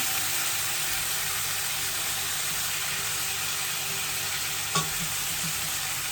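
Tomatoes for egusi stew cook down in a pan with a constant close sizzle and hiss, broken by a single brief clink of a utensil.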